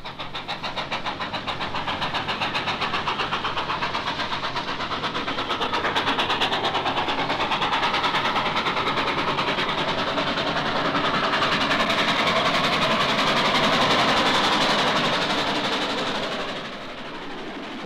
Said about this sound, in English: the train sets off among trees and wonderful scenery through the peace of the